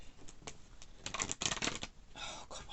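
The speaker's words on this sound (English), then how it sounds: "why can't I shuffle this deck?" A deck of tarot cards shuffled by hand, with quick riffling rustles and flutters in close, irregular bursts and no talking.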